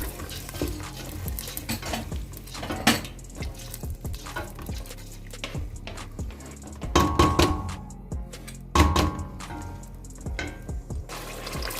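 Ingredients for kadhi pakora being stirred and roasted in a pan, with repeated scraping and clinking strokes of a spoon in an irregular rhythm over a low sizzle, close and fairly loud.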